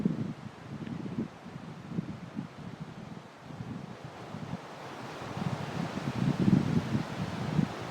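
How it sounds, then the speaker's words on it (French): Outdoor wind blows steadily and gusts in uneven surges, buffeting the microphone with a low rumble that grows stronger toward the end. "j'entends le vent"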